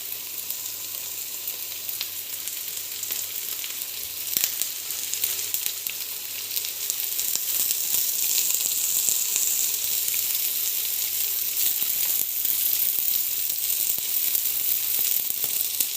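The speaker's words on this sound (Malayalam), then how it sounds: "ഇനി ഇതിലേക്ക് നമുക്ക് ആ മുട്ടകൾ ഓരോന്നായിട്ട് ഇടാവേ." Egg curry masala sizzles and fries steadily in a pan as eggs go in one at a time, a dense, continuous crackle with occasional faint stirring clicks and no talking.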